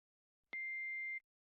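A single clean electronic beep from a video game answering machine, steady and sustained for just under a second, sounding alone against silence.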